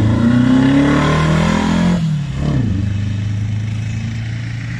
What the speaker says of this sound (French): cette Dutton Phaeton Sport, Dutton Phaeton de 1980, replaqué Caterham avec son moteur Ford Pinto 2 litres